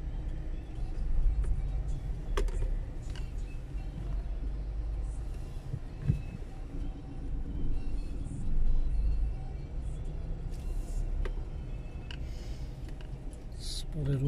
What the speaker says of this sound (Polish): Spory ruch samochodowy